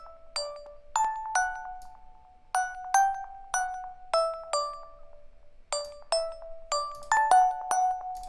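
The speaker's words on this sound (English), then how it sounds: "Make a little bit darker of a sounding bell." Synthesized bell in Logic, EQ'd with the top end cut for a darker tone, rings out alone in a steady series of about a dozen clear, decaying strikes.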